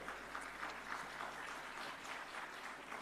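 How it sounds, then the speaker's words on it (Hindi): Audience at the NXT Conclave 2025 applauding to welcome Haryana Chief Minister Nayab Singh Saini, a steady, even wash of clapping from a seated crowd that holds at moderate level throughout without breaks. "तो पहले तो जोरदार तालियों से उनका स्वागत किया जाए"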